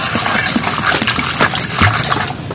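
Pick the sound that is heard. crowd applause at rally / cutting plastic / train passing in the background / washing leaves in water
washing leaves in water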